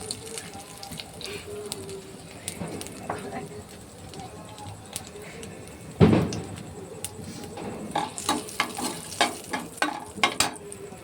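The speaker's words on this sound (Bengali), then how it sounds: "একটা শুকনো লঙ্কা আর কালো জিরে দিয়ে দিলাম।" A dried red chilli and nigella seeds frying in hot oil in a home kitchen, a soft sizzle with a sudden louder splutter as they hit the pan, faint crackling and stirring, and someone talking over it.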